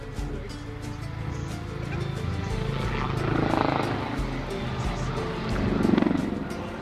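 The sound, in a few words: helicopter performing a pedal turn at an air show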